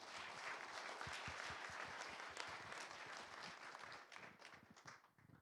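Audience applause at a formal 40th-anniversary ceremony for a Korean information industry association, dense sustained clapping from a large crowd that holds steady and then thins out and fades near the end.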